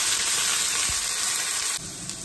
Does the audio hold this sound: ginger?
yes